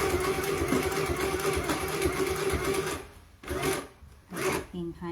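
A sewing machine stitches a bib for a drooling Chow dog, running steadily and close up for about three seconds, then whirring again in two short bursts, with a person talking quietly over it.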